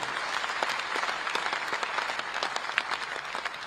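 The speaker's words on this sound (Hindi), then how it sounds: "मैं चाहूंगा कि आप सब लोग उनके लिए एक बार जोरदार ताली बजाएंगे।" Enthusiastic audience applause at a BJP state executive committee meeting in Raipur attended by the Chief Minister. Sharp, close hand claps patter irregularly across the whole stretch over a crowded hall ambience.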